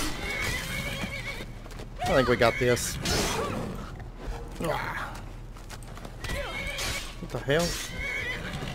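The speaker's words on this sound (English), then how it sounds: "I don't know why that deer horse always goes crazy and like attacks Sophia" A deer horse in Skyrim gives several loud, wavering whinnies in separate bursts, mixed with hoof clatter and combat noise, while a person talks over the game audio.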